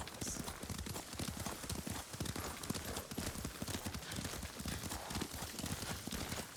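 Steady, rapid hoofbeats of a galloping horse in the video game Ghost of Tsushima, loud and continuous throughout, with a faint whinny and some muffled voices in the background.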